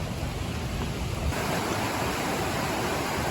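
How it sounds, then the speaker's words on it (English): Steady, loud roar of a raging river on the Appalachian Trail, continuous and broadband with no pauses, close by. "I don't know if you can hear me over this raging water"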